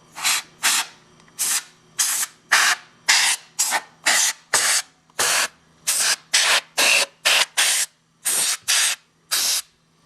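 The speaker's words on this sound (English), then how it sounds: "I use a little compressed air on it" Compressed air sprayed in repeated short hissing bursts to blow debris out of a sewing machine during maintenance, about twenty evenly spaced blasts, close and loud with no voices.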